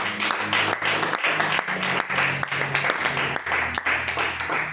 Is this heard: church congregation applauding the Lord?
yes